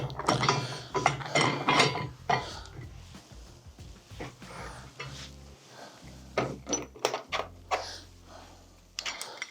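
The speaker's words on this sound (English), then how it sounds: "And let's pop our wheels on." Wheels and silver bushings go onto a steel tent jack, producing close metallic clanks, rattles and scraping knocks in uneven bursts.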